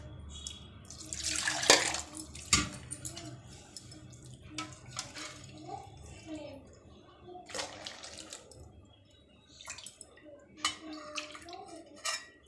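Water poured into a mixer jar while making spinach papad, a splashing pour with clinks of the steel jar and utensils, dripping in between, moderately loud in a home kitchen.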